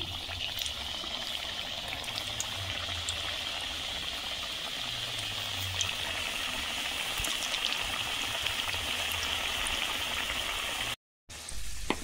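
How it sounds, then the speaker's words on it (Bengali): Thekua sweets fry in hot oil with a steady, dense sizzling and bubbling hiss, even and continuous, close by with no talk, broken only by a brief drop near the end. "এইভাবে প্রত্যেকটা ঠেকো আমি ভেজে নেব।"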